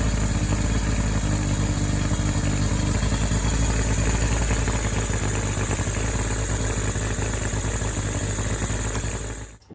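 A Yamaha outboard motor runs at a loud, steady idle with an even rumble and whine that continues for several seconds, then cuts off abruptly at the end.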